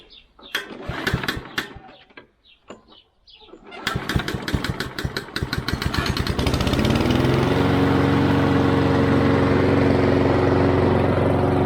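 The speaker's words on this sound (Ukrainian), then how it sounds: "Нажимаю оцей річажок червоний і завожу двигун." A petrol lawn mower engine is pulled and sputters, catches on a later attempt, and settles into a loud, steady running roar.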